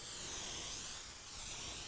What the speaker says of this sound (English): Take some spray oil, lightly spray